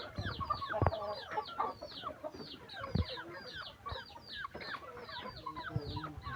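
Chickens cluck repeatedly nearby, short overlapping calls from several birds in a quiet farmyard setting, with a few louder thumps.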